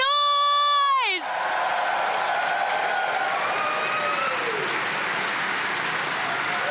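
An audience at a PAX West 2024 panel for Monster Hunter Wilds breaks into loud, sustained applause with scattered cheers, starting after a brief musical tone and continuing steadily to the end.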